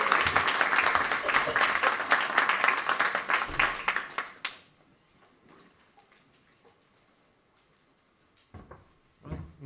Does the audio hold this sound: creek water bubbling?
no